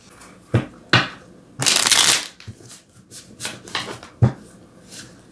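Tarot cards being shuffled by hand, with close crisp riffles and one long dense flurry of card noise, plus scattered taps and rustles, and no one speaking.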